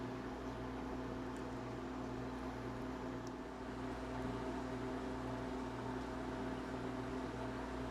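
A home freeze dryer loaded with four dozen eggs starts its automatic cycle, giving off a steady mechanical hum with a droning motor tone and constant airy noise, unchanging and moderately quiet throughout.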